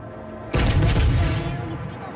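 Heavy ship guns firing at the battleship Friedrich der Grosse in World of Warships: Legends, a sudden loud boom that breaks in after a quiet moment and then rumbles away.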